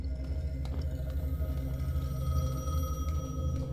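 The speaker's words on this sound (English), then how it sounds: "Can you pick up the phone?" A telephone rings in the video game Shady Part Of Me, a soft repeating electronic tone over a dense, droning ambient game soundtrack.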